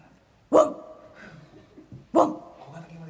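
A person imitates a dog barking during an embarrassing penalty game, giving two loud, sharp yelping barks about a second and a half apart, with quieter voice sounds in between.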